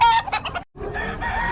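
A rooster crows loudly and close at a poultry market in Bocaue, with a clear crowing phrase, a short break, then continued calls over busy background.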